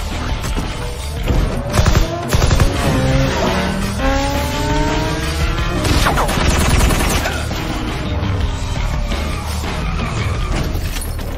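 A movie action scene with loud gunfire mixed into screeching tires, engine noise and crashes, several sharp shots among the chaos, dense and close.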